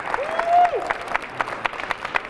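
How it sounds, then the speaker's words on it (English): A school winter band concert audience applauds student musicians, fairly light scattered clapping with a voice or whoop rising briefly over it near the start. "Give them a round of applause."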